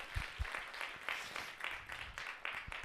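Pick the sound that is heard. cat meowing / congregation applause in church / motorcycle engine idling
congregation applause in church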